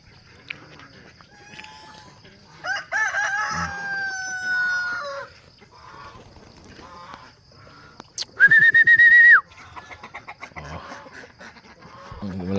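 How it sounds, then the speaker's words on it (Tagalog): Backyard roosters crow repeatedly on a morning farm: several fainter, more distant calls early on, then one loud, close crow, with scattered clucks and quieter bird sounds in between. "Yung mga alaga nating manok."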